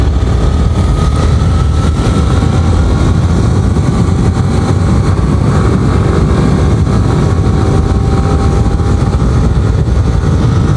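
A Yamaha R15 v3 motorcycle being ridden, its engine droning loud and continuous up close, mixed with heavy wind rush across the whole stretch.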